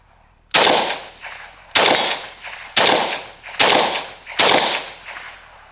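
Five loud, close semi-automatic shots from a Century Arms Romanian AES10B2 RPK rifle, evenly spaced about one second apart, each a sharp crack with a short decaying tail, fired at an outdoor range target.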